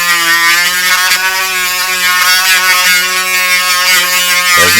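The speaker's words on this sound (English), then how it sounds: "good old Dremel. Can make short work of that. And we're just going to grind this down and work on these post melts." A Dremel rotary tool grinds down plastic post melts on a Carrera Classic NASCAR slot car, giving a loud, continuous high-pitched whine with a brief dip in pitch near the end.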